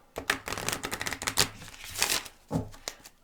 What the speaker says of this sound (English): So we'll give them a little shuffle.